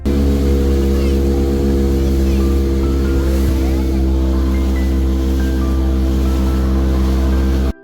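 A motorboat on a backwater lagoon near the sea at Pondicherry, its engine droning loud and steady close by throughout, with rushing water and wind over the hull.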